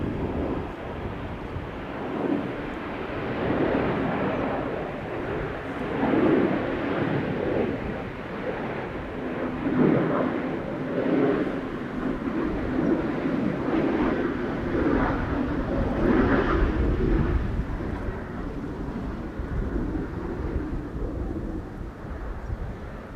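A KLM Embraer 190 airliner arriving at Schiphol Airport, a steady distant broadband jet roar sustained for the whole stretch, swelling slightly midway, with wind-like noise and no talk.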